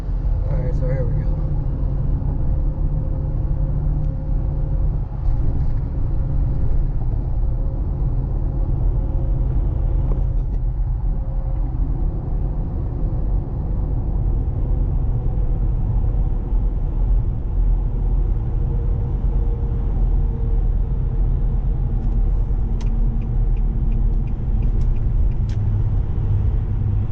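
An Infiniti QX56 cruises down the freeway, giving a steady, loud interior road rumble and engine drone with tire noise. The sound holds evenly throughout with no clear passing events.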